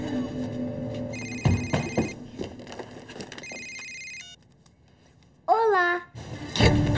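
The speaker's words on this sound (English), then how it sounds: "It's ringing, it's ringing." A telephone ringing indoors in a comedy film scene, with a few repeated electronic ring bursts between stretches of conversation and movement, then a rising whoop-like sound near the end.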